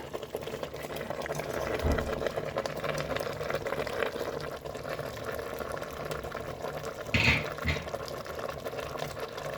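Pieces of goat head meat fry in a pan for a goat head curry, a continuous crackling sizzle throughout with a brief louder burst of spattering toward the end.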